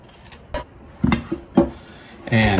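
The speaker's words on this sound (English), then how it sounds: "I'm just going to dump them right in." Egg yolks go from a measuring cup into a mixing bowl for an Oreo cake, with a few sharp clinks and knocks of dishware and a louder clatter of the bowl at the end.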